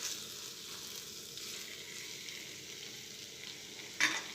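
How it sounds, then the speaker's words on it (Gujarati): Spiced potatoes with fresh coriander sizzle steadily in a pan while being stirred, with a soft continuous frying hiss and a brief sharper scrape of the spoon near the end; no voices. "આ રીતે આપણે મિક્સ કરી લઈશું"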